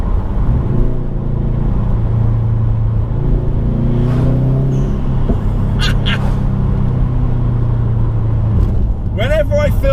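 A Subaru WRX STI engine revs through a heel-and-toe downshift, a steady low rumble swelling and dropping with turbo wastegate chatter bursting near the end, heard from inside the car with voices talking over it.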